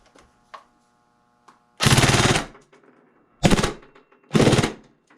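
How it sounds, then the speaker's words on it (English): Tokyo Marui SCAR-H Next Gen airsoft gun with recoil shock firing full auto: three loud, rapid mechanical bursts, each under a second long, separated by quiet pauses with faint clicks and handling noise. "we're going to demonstrate the full auto capability of the Scar H Next Gen and take a look at the recoil system"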